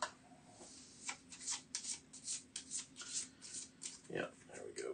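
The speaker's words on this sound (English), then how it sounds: "We're going to shuffle this up." Cards from the Altar Quest board game riffled and shuffled in a series of soft, papery bursts, with a person briefly talking near the end.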